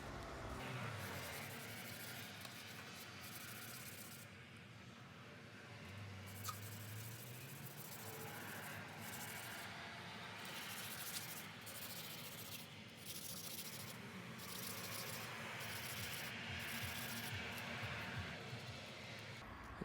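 Serpentine stone rubbed against 600 grit sandpaper, a steady broadband scratchy rasp with rhythmic back-and-forth strokes running throughout, close and moderately loud.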